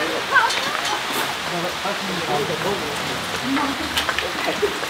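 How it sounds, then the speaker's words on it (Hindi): Steady rain falls on surfaces nearby, a dense hiss with scattered drip and patter sounds that continues without a break. A few faint vocal sounds can be heard mixed into it. "ओए बारिश बारिश बारिश बारिश बारिश।"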